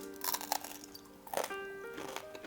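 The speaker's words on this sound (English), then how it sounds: "hearing people eat tadig and making the crunchy sound that makes in your teeth" Teeth bite into crunchy tadig, Persian crispy rice, giving two or three crisp, close crunches with brief chewing between.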